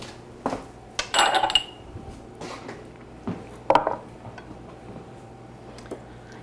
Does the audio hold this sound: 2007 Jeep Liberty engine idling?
no